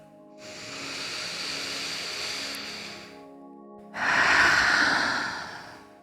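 Slow, deep breathing during a guided breathing exercise: a long airy inhale, a short pause, then a louder, rushing exhale, close and clear, with no talking.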